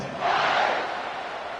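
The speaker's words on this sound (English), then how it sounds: "this crowd is buzzing after that last score" Football stadium crowd at Texas vs Texas Tech cheers after a touchdown, a short, loud, swelling roar that rises then eases off.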